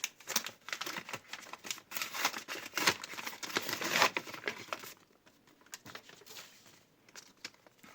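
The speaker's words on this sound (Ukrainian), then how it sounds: "відкриваємо ось цей пакетик" A paper surprise packet being opened by hand, with close crinkling, tearing and rustling of paper in quick irregular bursts that thin out toward the end, with no talking.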